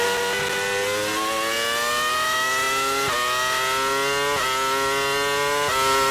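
Formula 1 car engine screaming at full throttle on a wet onboard lap of Suzuka, a loud high-pitched whine rising steadily through the gears with brief drops at each upshift.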